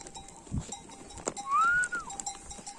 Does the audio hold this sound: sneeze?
no